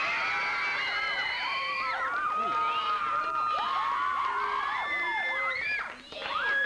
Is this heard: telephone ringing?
no